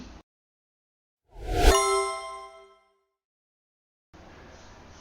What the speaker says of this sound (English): So that there's a bell if we come up with something new